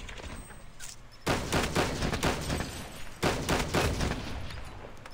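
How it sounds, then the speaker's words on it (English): A deployed sentry gun in the video game Call of Duty Mobile fires sustained automatic bursts, dense and loud, in two long volleys separated by a brief break, with steady game background noise underneath. "Sentry gun ready to deploy."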